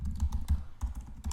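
Rapid typing on a computer keyboard, a quick burst of close, distinct key clicks in an uneven rhythm, heard alone without talk.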